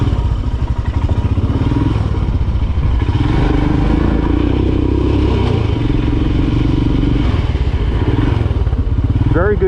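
Royal Enfield Himalayan ridden hard off-road as a dirt bike, its single-cylinder engine loud and close with a continuous throbbing thump, revs swelling and easing, plus rattles and clatter from the rough terrain.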